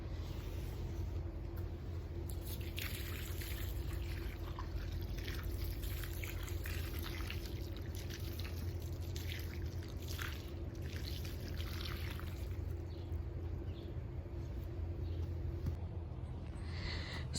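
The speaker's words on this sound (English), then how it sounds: "I'm just gonna pour the water on top of the castle" Warm water poured from a kettle onto a snow castle, a soft continuous trickling and splashing that runs steadily for several seconds, faint and close with no voices.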